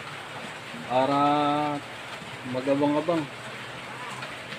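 Heavy rain falls steadily outside a house in San Leonardo, Nueva Ecija, a constant broadband hiss running under the whole stretch while someone speaks in two short bursts.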